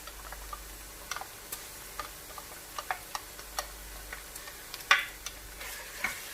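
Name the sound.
ginger garlic paste frying with onions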